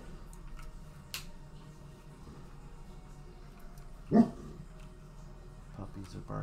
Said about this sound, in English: Puppies are barking at something.